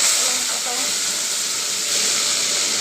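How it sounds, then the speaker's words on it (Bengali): A gas stove burner roars with a loud, steady broadband hiss throughout, close and unbroken, while cooking prawns in yogurt. "স্টোভের আওয়াজ তোমরা একটু কষ্ট করে দেখে নিও, শুনে নিও।"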